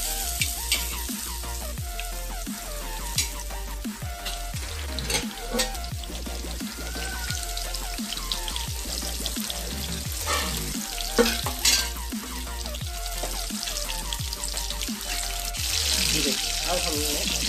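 Marinated gobi (cauliflower) pieces for gobi tikka frying in hot oil in a pan: a loud, continuous close sizzle with repeated scraping and stirring strokes, spitting intensifying toward the end.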